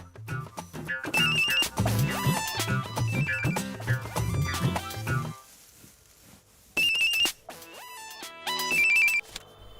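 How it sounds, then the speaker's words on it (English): A mobile phone ringtone plays loud and close as a bright repeating electronic melody, cuts off briefly, then resumes in two short bursts, with no talking over it. "Hey, you picked up the phone in 5 rings."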